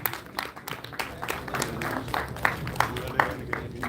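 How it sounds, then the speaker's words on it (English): An audience at a college valedictory ceremony claps in a steady, moderately loud round of applause, dense with overlapping hand claps throughout. "Please Give a huge round of applause,"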